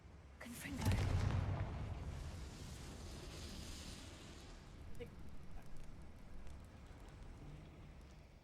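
A Confringo spell fires in a Harry Potter video game as a sudden explosive blast that rumbles and fades over several seconds, followed by lower crackling game noise.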